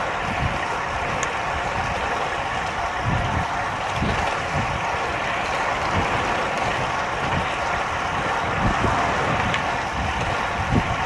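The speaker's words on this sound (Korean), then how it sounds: "바람이 불어서" Steady wind rushing past the microphone while cycling at speed in a group road ride near the Yangsu railway bridge, a continuous buffeting roar throughout with low gusty rumbles.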